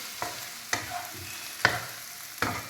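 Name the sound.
okra frying in a pan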